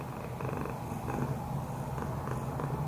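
A cat purrs continuously and close, a low rhythmic rumbling with soft pulsing breaths, steady and alone without talk.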